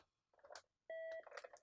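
A Merlin telephone gives a steady electronic beep of about a third of a second when a call is answered on speaker, set between softer clicks and handling noises in a quiet room.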